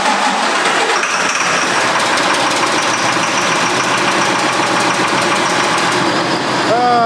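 A small tractor engine idles steadily nearby with a continuous, slightly knocking rumble and faint vibration, holding an even level throughout with a brief higher whine near the end; wintry conditions with snow expected.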